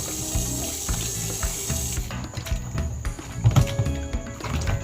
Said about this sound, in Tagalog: Huhugasan natin to mga kachan ng tubig.